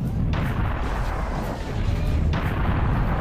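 Two heavy cannon blasts from the video game Serious Sam boom about two seconds apart, each a loud burst over a constant rumbling backdrop.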